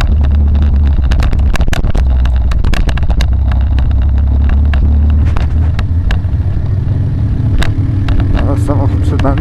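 A motorcycle rides at about 40 km/h, its engine giving a loud, steady low rumble mixed with wind noise and clicks, while the rider talks.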